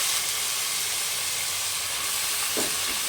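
Half a kilo of mutton fries with onions in a pan, a steady, loud, continuous sizzle and hiss with a faint stir near the end.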